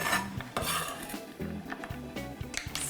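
Onion, garlic and almonds tipped into a pan to toast, giving a dense clatter of utensil scraping and stirring against the pan, loud and close, with no voices.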